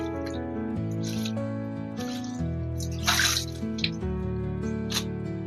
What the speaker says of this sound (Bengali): আমি এইভাবে এগুলোকে ভালো করে জল দিয়ে ধুয়ে নিই